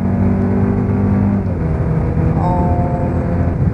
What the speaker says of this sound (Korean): 배기 소리가 커지고요.